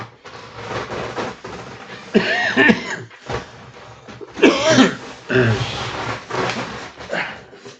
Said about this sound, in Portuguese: Já vem aquela vontade de tossir de novo.